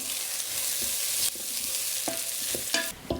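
Rinsed red lentils with cumin seeds being stirred in an Instant Pot Mini for tomato lentil soup, giving a soft steady sizzle with a few distinct scrapes and taps of the spoon, fairly quiet, no talking.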